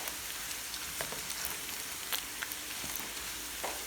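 Pork pieces frying in oil for chilli pork, a continuous fine crackling sizzle with scattered sharper pops, close but fairly quiet, with no voices.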